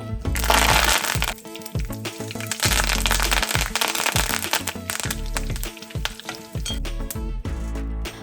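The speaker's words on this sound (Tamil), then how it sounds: "கொஞ்சமாக கருவேப்பிலையும் பொரிச்சிக்கலாம்." Curry leaves frying in hot oil after potato omapodi, a loud, dense crackle and sizzle with sharp pops throughout, close up and with no voices.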